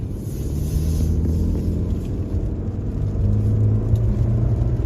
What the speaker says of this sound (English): If you activate the sports mode, like as I said before, the car becomes much more aggressive